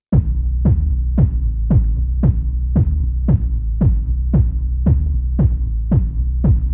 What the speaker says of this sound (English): Now I'll add the kick and bass to give you the full context.